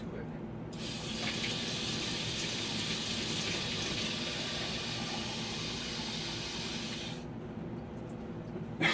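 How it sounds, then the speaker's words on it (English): Cold water gushes from a tap into a container of homemade liquid laundry detergent, a steady hissing pour that starts abruptly and stops near the end, close and unbroken. "So now that this is all mixed up, I can add this regular cold water"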